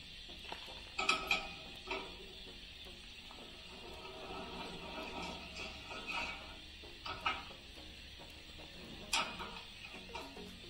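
A bolt being screwed in by hand in a farm workshop, fastening a side-bar mount: faint intermittent ratcheting clicks and metallic ticks in short bursts over a quiet background.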